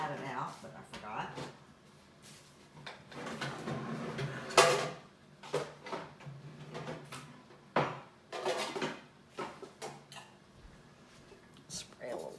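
A metal bread pan is pulled from a kitchen cupboard with a series of clanks, knocks and rattling of other pans and utensils, under a voice chatting intermittently.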